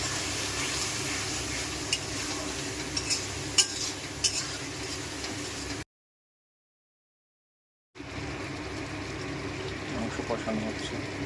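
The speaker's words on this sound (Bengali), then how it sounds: "মাংস কষানো হচ্ছে" Chicken cooking down with spices in a kadai of oil, continuous sizzle under repeated scraping stirs and utensil clicks, broken by a couple of seconds of silence before frying resumes.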